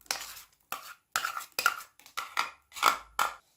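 Finely chopped medium onion going into a pan holding half a cup of hot oil, heard as a series of separate sizzling hisses and clinks, close and fairly quiet, with no talk.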